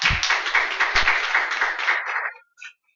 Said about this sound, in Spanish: démosle ese fuerte aplauso de bienvenida